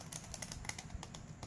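Mini pinking shears cutting origami paper, a quick series of soft, close snips in an even rhythm, quiet and with no talking.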